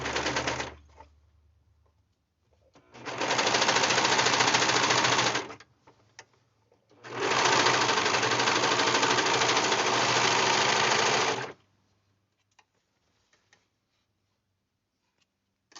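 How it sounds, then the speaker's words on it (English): A serger trims excess fabric off the seam of men's pants during a waist alteration, two loud, close runs of rapid mechanical whirring, about three and four seconds long, separated by a quiet pause with faint handling clicks. "let's go ahead and serge this excess fabric off"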